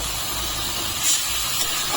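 Water poured into a hot pan of turmeric and kasuri methi spice mixture for an okra curry sizzles with a steady, loud hiss throughout.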